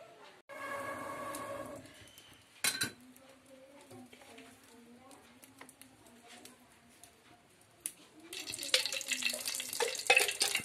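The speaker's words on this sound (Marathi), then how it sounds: "एखादा मसालो मीठ रवा लावून झालेलो आता भाजणार" Prawns coated in masala, salt and semolina frying on a wood fire, with a faint low sizzle under clatter and scraping from a pan, then a louder burst of hissing spitting oil near the end.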